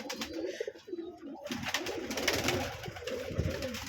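Pigeons coo in a home pigeon loft after a flood, soft low throaty calls repeating at a moderate distance, with rustling and faint chirps around them and no talking.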